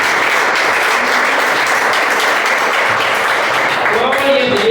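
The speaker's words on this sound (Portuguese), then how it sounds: "Aplauda a Jesus na oração." A church congregation at a Brazilian worship service applauds steadily and loudly, a dense continuous wash of many hands clapping, with a voice faintly rising near the end.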